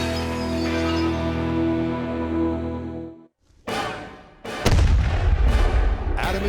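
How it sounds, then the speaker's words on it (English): Period-accurate cannon firing improvised ammunition: a sustained rumbling roar cuts off, then sharp, loud booming blasts follow in close succession with a short gap between them. "They have a period-accurate cannon, a pirate pig for cannon fodder, and a range of mythical movie-inspired ammunition."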